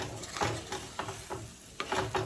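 Masala with tomato is stirred and fried in a pan, a soft sizzle under a series of rhythmic scraping strokes of a spoon against the pan, about six strokes over two seconds, close and without voices.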